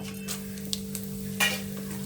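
Whole spices, including cinnamon, cloves, cardamom, marathi moggu, star anise, stone flower, mace and a bay leaf, fry in oil in a pan for chicken biryani, giving a faint sizzle with a few soft crackles over a steady background hum.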